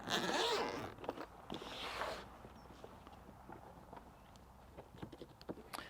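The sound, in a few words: zipper being undone on a Starlink travel case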